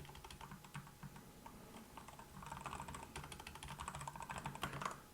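Steady, quiet typing on a computer keyboard while entering a chart title, a continuous patter of close key clicks that grows slightly busier toward the end, no speech.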